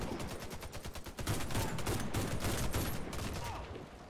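Rapid, loud gunfire from a first-person shooter match of Warface, dense overlapping bursts of shots with a sharp jump in intensity partway through, sustained near and continuous with no talk.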